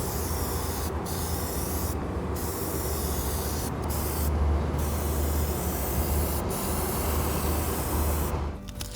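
Aerosol cans of Plasti-Dip laying heavy coats onto foam craft parts, a steady close hiss running unbroken for the whole stretch with no voices.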